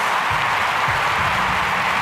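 A stadium crowd roars at the London 2012 Olympics before the men's high jump final, a dense, continuous wall of cheering and applause with no gaps.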